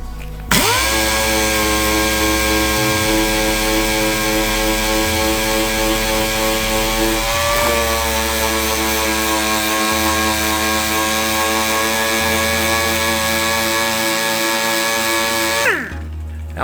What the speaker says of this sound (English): Now I'm just using the edge of the sander just to get rid of this line.